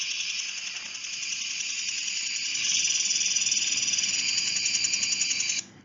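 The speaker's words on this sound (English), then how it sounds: "make a steady whispering actually sound like this." A quiet lawn sprinkler gives off a steady, whispering hiss that holds evenly for several seconds before cutting off abruptly, with no voices over it.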